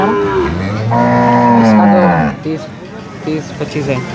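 A single loud, close cow moo, long and drawn out, rings across a busy livestock market before fading into people talking and general market noise.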